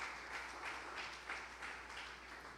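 A church congregation at a Saturday evening special service applauds the King: a soft, distant wash of many hands clapping, with faint rhythmic pulses and a steady low hum beneath.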